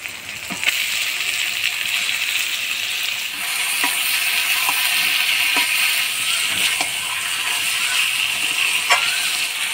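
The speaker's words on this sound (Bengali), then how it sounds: "এবার দিয়ে দিব মাখিয়ে রাখা মাংস।" Marinated chicken added to a pan of onions fried light red with chopped tomato sizzles loudly and steadily throughout, with occasional sharper clicks and scrapes of stirring.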